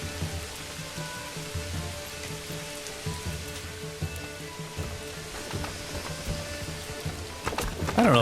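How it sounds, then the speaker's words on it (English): Steady rain patters in Manor Lords, a continuous close hiss of drops with faint background tones and a louder splash near the end. "Building in the rain."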